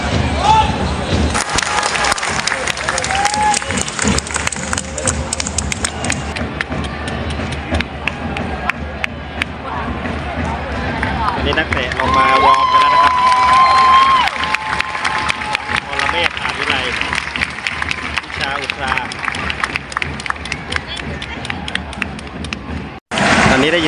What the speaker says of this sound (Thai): สียงกองเชียร์เมืองทองแล้วนะครับ